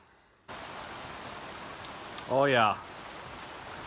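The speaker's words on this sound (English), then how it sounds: "a little bit of Colorado rain here." Steady rain falls in Colorado as a continuous close hiss, with a brief spoken exclamation partway through.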